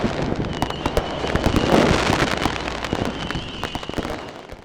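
New Year fireworks display: a dense, continuous crackle of firecracker pops and bursting shells, with rapid sharp cracks layered over a rumbling wash of distant explosions.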